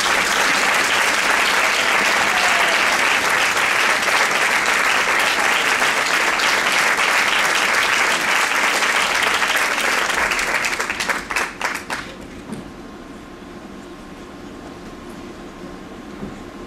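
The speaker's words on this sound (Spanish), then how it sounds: "Un gran fuerte aplauso para él." A large audience applauds a concert conductor with loud, dense clapping that holds steady for about ten seconds, then breaks into scattered final claps and fades to quiet room tone.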